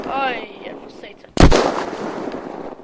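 A single sharp, loud gunshot bursts out in the video game Unturned, decaying over a second, with brief talk and game sounds before it.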